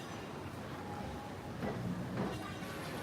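A tram rolls along a busy Hong Kong street, a faint, steady rumble blended into traffic and city noise, with a couple of soft swells as it passes.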